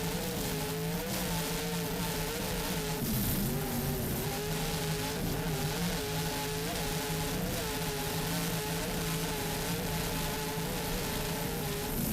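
A 40-foot Platinum offshore Supercat racing powerboat with Sterling Racing engines and Mercury No. 6 drives roars continuously at speed during a world championship race at Key West, its loud engine drone wavering in pitch as it runs.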